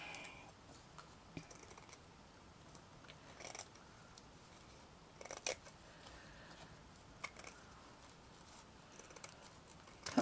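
Scissors cutting fabric for a handmade flowered hairclip, heard as faint, close, sparse snips and small scrapes scattered over a quiet, low background.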